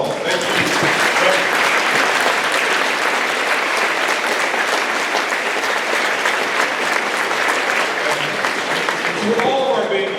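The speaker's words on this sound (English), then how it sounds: "Let's give you one more round of applause." Students and staff at a high school Veterans Day assembly give veterans a sustained round of applause, dense and loud clapping filling the hall evenly before voices emerge near the end.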